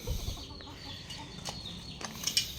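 A backyard brood rooster gives a few soft, low clucks at close range, among faint rustling and a light knock or two.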